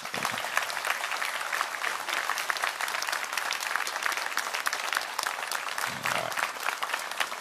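A crowd gives a standing ovation at the DeKalb County Fire Rescue Class 113 graduation, with dense, steady applause that holds at full strength from start to finish.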